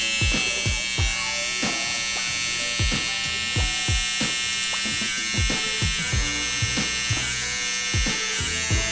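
Electric beard trimmer buzzes steadily up close, with repeated short changes in pitch as it passes through the beard in quick strokes.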